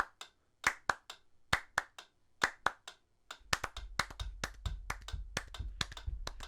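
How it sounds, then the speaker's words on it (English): Hand claps keeping time with a car's turn signal, two claps to each blink, first as sharp isolated claps in a steady pulse, then denser over a low rumbling background, close and loud. "I'm going to clap twice for every one."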